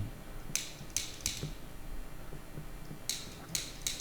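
A lighter with no fluid clicks repeatedly, close by: three sharp clicks in quick succession, a pause, then three more, over a faint background hum.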